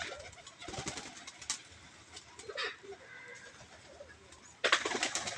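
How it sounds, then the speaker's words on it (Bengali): Magpie pigeons cooing close by in repeated soft, throaty bursts, with a louder stretch of cooing near the end and faint rustling between calls, no talking. "এই যে ম্যাকপাই কবুতর"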